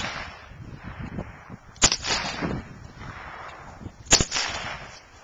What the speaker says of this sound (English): Take a couple shots.